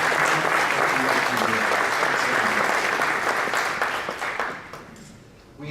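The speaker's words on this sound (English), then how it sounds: "So a round of applause." At a DifferenceMaker celebration event, a crowd applauds in a dense, even burst of clapping that holds strong before fading toward the close, with a hint of voices beneath.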